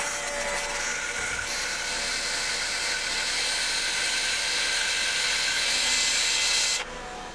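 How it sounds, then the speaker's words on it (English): A belt grinder hisses loud and steady as it sharpens a nail spun in a drill to make a point for an automatic center punch, then the grinding stops abruptly. "I'm going to put a point on it by using my belt grinder"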